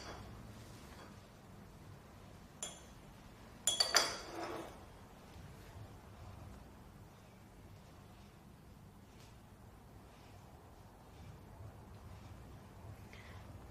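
Glassware in a chemistry lab gives a few faint clinks as crystals on damp filter paper are spread onto a clock glass, with two brief louder knocks amid quiet room noise.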